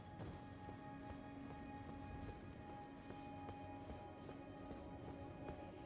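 Horse hooves clip-clop steadily in Elden Ring, a galloping rhythm of repeated soft thuds running through the whole stretch over a constant ambient game drone, at moderate level.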